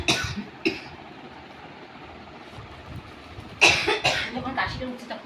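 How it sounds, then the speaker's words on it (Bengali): A person coughs in a harsh burst near the start, again around the half-second mark, and then in a louder cluster of several coughs later on, over a murky background of low engine-like rumble. "যখন কাশিটা উঠছে তখন খুব কষ্ট হচ্ছে।"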